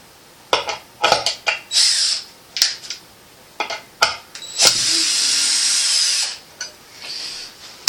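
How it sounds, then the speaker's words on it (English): A power drill drills out a part on an electric trike build, running in short, repeated bursts, then holding one long whining stretch before a few more brief pulses, close by. "Yeah, I guess I'll drill it out."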